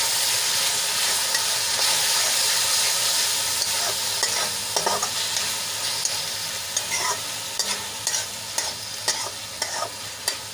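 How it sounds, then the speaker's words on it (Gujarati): Tomato puree is stirred into onions frying in a pan, giving a close, dense sizzle with repeated spatula scrapes and clinks that grow busier and more rhythmic toward the end. No one speaks. "ડુંગળી આપણે સરસ રીતે સંકળાઈને લાલ થઈ ગઈ છે, તો એમાં 2 ટમેટાની પ્યુરી એડ કરી લઈશું. ડુંગળીમાં સરસ રીતે આપણે મિક્સ કરી લઈશું."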